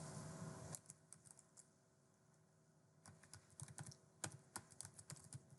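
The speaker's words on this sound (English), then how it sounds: "So I'll type in my job name." Fingers typing on a computer keyboard at a desk, a few scattered key clicks at first, then a lull and a quicker burst of close, crisp keystrokes, with a faint steady hum underneath and no speech.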